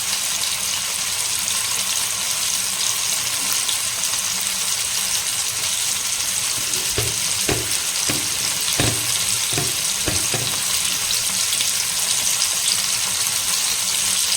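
Sankara fish fries in a pan with a steady, hissing sizzle. A cluster of sharp knocks and taps against the pan sounds in the second half, and no one speaks.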